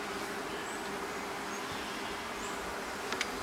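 Steady, continuous buzzing of many honey bees close by at a top bar hive, a dense droning hum with no voices.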